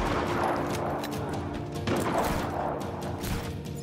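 Gunfire rattles through a firefight in the video game Just Cause, a steady dense barrage of overlapping shots with a couple of louder bursts, continuous and fairly loud with no talking over it.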